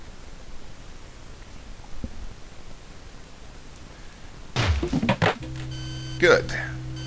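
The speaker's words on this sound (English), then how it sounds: "The object thuds into place within the cavity of the ship." Object thudding into place inside the cavity of a ship in the Space Quest III computer game, a low heavy thump followed by a short burst of noisy impact and a steady droning hum.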